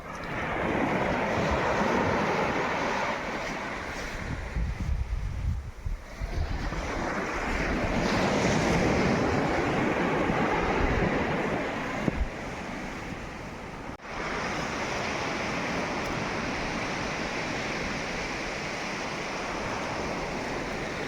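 Ocean surf on Karmatang beach, a loud continuous wash of breaking waves mixed with strong wind buffeting the microphone, with swells rising and falling and no talk.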